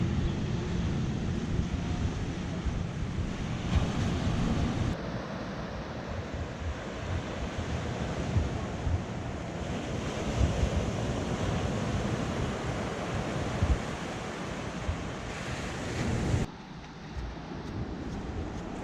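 Surf rolls continuously onto Elbow Beach in Bermuda, a steady broad wash of breaking waves mixed with gusty wind buffeting the microphone, with no voices.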